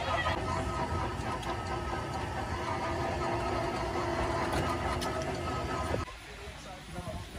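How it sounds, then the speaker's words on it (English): A tractor engine rumbles steadily and close by during a bumpy ride, then drops off sharply near the end. Voices talk faintly over it. "This is a very bouncy tractor."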